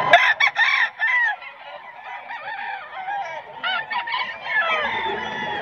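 A rooster at a gamefowl market crows and clucks loudly nearby, with repeated harsh calls and other fowl sounds overlapping, and someone speaks faintly underneath.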